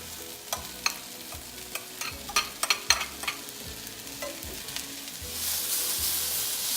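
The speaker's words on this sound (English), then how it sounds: "the saute is coming along really well" Onions and mushrooms sauté in a pan, giving off a soft sizzle. A spatula scrapes and clicks in quick, uneven strokes, close by, and the sizzle swells into a louder hiss toward the end.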